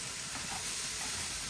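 Sliced papaya fries slowly in a pan with no water added, giving a steady, close hissing sizzle that holds even throughout.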